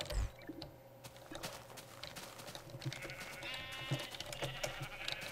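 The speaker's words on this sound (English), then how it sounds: "I'm having fun collecting sheep and dropping them into portals." Sheep in the video game Minecraft bleat several times over a steady busy game background, with repeated short calls at moderate loudness and no talking.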